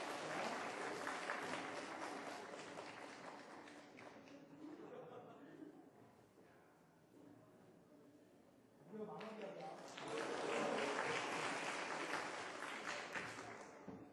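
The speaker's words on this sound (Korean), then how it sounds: "우리 박수 한번 쳐주시고요" A church audience applauds during a Sunday afternoon creation-science lecture, the clapping loud at first, easing off in the middle where it thins under voices, then swelling again strongly toward the end.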